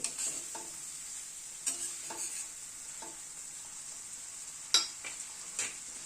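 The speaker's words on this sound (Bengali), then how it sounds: "গ্যাসের ফ্লেমটাকে মিডিয়ামে রেখে মশলাটাকে ধীরে ধীরে কষিয়ে নেব।" Spice paste with ginger paste frying on a medium gas flame for chhanar kofta curry, a steady close sizzle broken by several sharp stirring scrapes, with no talk.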